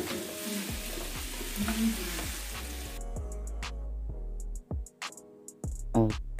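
Onions sweating in a frying pan give a broad sizzle that is strong at first, then thins into scattered stirring clicks under steady background music, with no talk.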